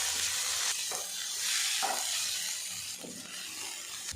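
Ginger garlic paste sizzles and fries with papaya in a pan over low heat, a steady hiss broken by occasional scraping stirs of a spoon.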